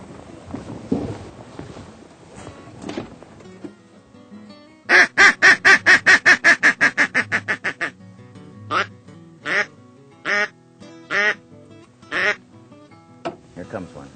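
A duck call blown during a duck hunt from a boat, a fast descending run of loud quacks followed by single spaced quacks, with low voices murmuring beforehand.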